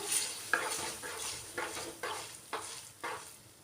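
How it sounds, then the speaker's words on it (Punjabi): Saag stirred in a pan during tempering, regular scraping strokes about every half second over a soft sizzle, close but quiet. "ਹੁਣ ਇਹਦੇ ਵਿੱਚ ਆਪਾਂ ਸਾਗ ਪਾ ਦੋ ਅਸੀਂ ਵਿੱਚ ਸੌਂਗ ਪਾਤਾ ਹੈ ਤੇ ਹੁਣ ਇਹਨੂੰ ਹਿਲਾ ਲਓ"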